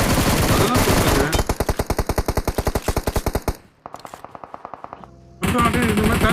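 Rapid automatic gunfire from the BGMI battle royale game, loud bursts of evenly spaced shots that shift to a quieter, more distant volley before the loud fire resumes.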